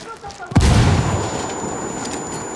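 A frag grenade goes off in a Ghost Recon Wildlands firefight, a sudden heavy boom with a long rumbling tail, preceded by faint voices and background game noise.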